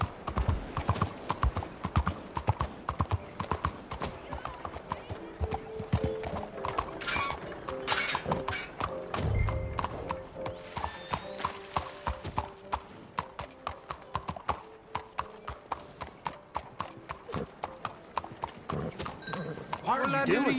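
Horse hooves clip-clopping in a steady, brisk rhythm in the video game Red Dead Redemption 2, continuous and close, with spoken dialogue over the hoofbeats.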